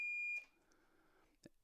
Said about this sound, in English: So we hear that beep. That's continuity.